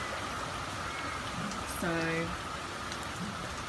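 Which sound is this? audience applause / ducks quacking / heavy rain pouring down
heavy rain pouring down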